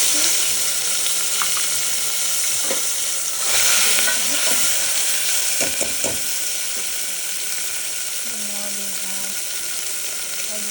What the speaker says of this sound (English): Be careful because the oil is very hot. Now I'm going to add tomato pieces.